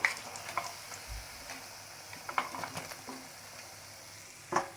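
Steady crackling sizzle of potato bajji frying in hot oil, with scattered pops and a few louder spatters, no voices.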